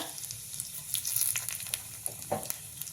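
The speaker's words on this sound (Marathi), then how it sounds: "दोन चमचे तेल गरम केलेलं आहे मी त्याच्यामध्ये टाकणार आहे जिरे मोहरी लाल मिरच्या" Cumin, mustard seeds and dried red chillies are tipped into two spoons of hot oil for a chutney tempering. They give a close, steady crackling sizzle with sharp pops scattered throughout, and no voices.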